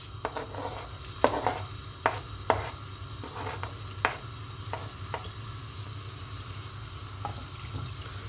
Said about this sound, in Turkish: Yağlarımız hafif kızardıktan sonra soğanımızı ilave ediyoruz.